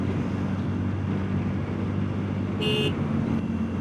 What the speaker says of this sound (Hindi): हॉर्न बज गया